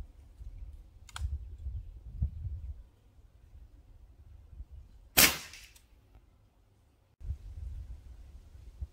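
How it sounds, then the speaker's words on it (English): Evanix AR6K medium-powered PCP air rifle with an unshrouded barrel, one sharp loud crack standing out against faint low background rumble and a few soft clicks. "And now the AR6K, a medium powered PCP with an unshrouded barrel, which is known to be fairly loud."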